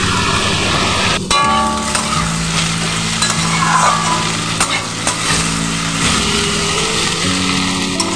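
Chunks of taro (gathi kochu) are stirred and fried in a pan. A close, steady sizzle runs throughout, with scraping stirs over it and faint tonal hum in the background.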